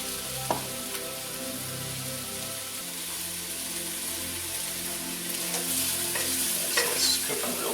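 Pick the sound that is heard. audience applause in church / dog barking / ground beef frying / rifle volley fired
ground beef frying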